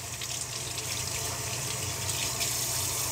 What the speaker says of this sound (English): I'm gonna rinse this off again.